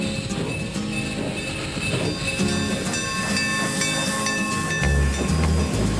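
A locomotive running on used restaurant vegetable oil and chip-shop fat hisses and chugs steadily, with a sustained whistle-like tone overhead and heavier rumbling pulses near the end, loud and close with no talk.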